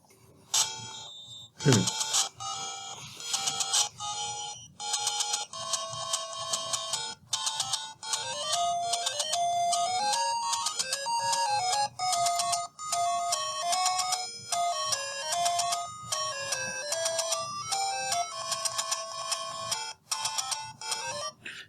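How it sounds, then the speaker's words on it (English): The Legend of Zelda overworld map theme plays as a simple 8-bit melody in bright square-wave tones over a bouncy chiptune bass, steady and upbeat, with no voices. "Legend of Zelda overworld map music."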